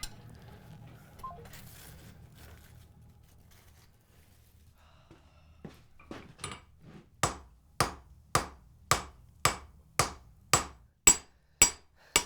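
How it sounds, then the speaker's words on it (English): A hammer forges wrought iron out into a thin sheet. A few softer taps lead into a steady run of about ten sharp, ringing metal blows, evenly spaced and close, each decaying quickly in a quiet workshop. "forging wrought iron out into a thin sheet like this is one of the greatest tests of its quality"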